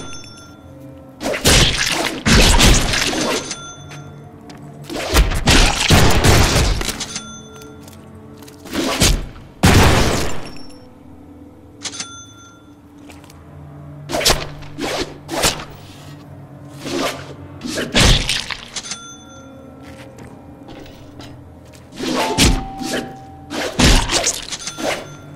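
Light and heavy melee attacks in a video game land as a string of sharp, crashing impacts and whooshes, some clustered in quick bursts and others spaced apart, with quieter gaps between them.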